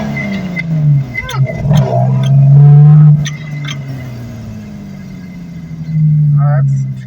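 A Toyota Altezza with a swapped 2JZ engine and 6-speed manual transmission drives along, its engine rumbling and swelling as it accelerates, then easing off and rising again, close by, with people talking over it.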